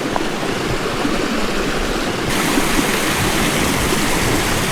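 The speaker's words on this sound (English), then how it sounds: "There's both waterfalls for you." Loud, continuous rushing of a waterfall on rural California acreage, a dense unbroken roar close by with no voices.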